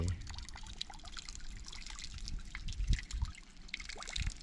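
Water ripples and flows in a steady trickling wash close by, with brief splashy surges, likely from fish stirring the surface during a net-lifting fishing session.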